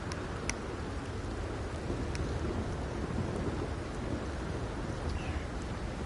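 Steady rain and rumbling thunder on a rainy night in the video game Red Dead Redemption 2, a continuous dense downpour with a few sharp crackles over low, rolling rumble.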